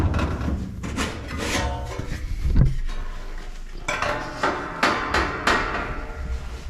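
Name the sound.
opening up a furnace panel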